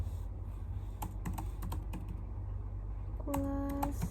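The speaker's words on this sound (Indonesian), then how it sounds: "Kita enter lagi dan di sini ketik kelas" Keys clack on a computer keyboard in a series of irregular taps under a steady background hum, with a brief tonal beep near the end.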